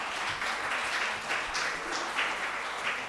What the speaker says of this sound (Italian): Ancora per questo ora un doppio applauso.